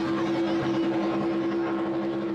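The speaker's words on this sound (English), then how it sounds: "Those motors are redlined, my friends." Redlined Mercury engines on 42-foot Fountain offshore superboats at an offshore powerboat grand prix in Washington, NC, a loud, steady high-pitched engine drone sustained without a break.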